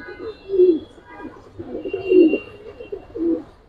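Giribaz pigeons cooing in three rounded, throaty bursts, close by and fairly loud, with quiet gaps between calls and no talk.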